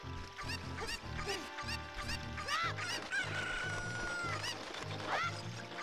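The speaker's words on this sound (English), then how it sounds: "if you take this chicken all the way" Chickens cluck repeatedly in Zelda: Ocarina of Time, a busy run of game-bird calls with a few crow-like squawks over a steady, looping musical background, with no speech.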